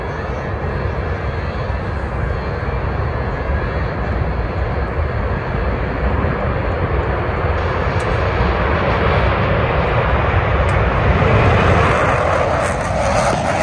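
Blue Angels jets passing at an air show with engines in afterburner, a loud, sustained roar that builds and swells toward the end, heard from the crowd.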